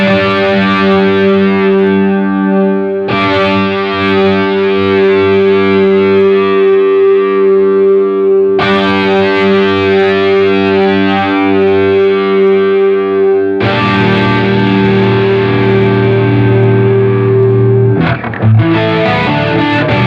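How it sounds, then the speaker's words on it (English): Tech 21 Richie Kotzen RK5 Fly Rig pedal on its rotary speaker simulation, a distorted electric guitar playing sustained chords with a swirling, chorus-like warble, loud and alone with no talking, chords restruck every few seconds. "push this button called Roto, and it does a rotary speaker simulation."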